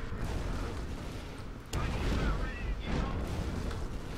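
Enemy gunfire in the video game Borderlands, with sharp shots and booming blasts cutting through a dense, noisy mix of game sound and fire.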